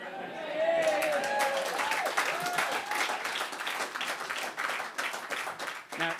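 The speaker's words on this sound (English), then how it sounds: "So I'm just giving you a clap." Sustained, dense applause from an audience at a Tory leadership campaign speech, steady clapping filling the room for several seconds with a brief voice at the start.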